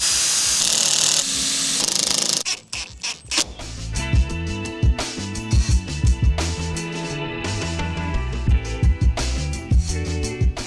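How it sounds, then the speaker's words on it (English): Short bursts of a power drill whir on and off several times, each a few seconds long, amid mechanical creaks and clatter. "A drill? If you may."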